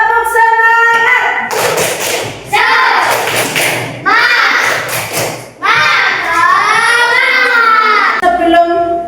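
Children in a classroom perform an encouraging rhythmic clap chant, voices singing in unison with bursts of claps between phrases, loud and close, repeated over several seconds.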